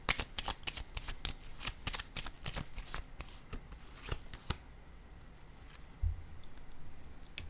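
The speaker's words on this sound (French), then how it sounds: "Je vais piger une carte pour la peur" Tarot cards are shuffled quietly and close by, with a rapid run of crisp riffling clicks and slaps over several seconds, then softer handling as the deck settles.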